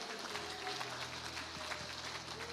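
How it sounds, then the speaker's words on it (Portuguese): A church congregation applauds during an evening service, a steady wash of clapping heard at a low level with faint crowd noise beneath. "Você pode aplaudir ao Senhor nessa noite?"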